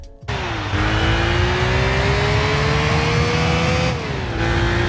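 A BMW M3 E46 engine in a Need for Speed Most Wanted mod, revving loud and close with a steady climbing whine, easing off briefly before the pitch rises again and drops near the end.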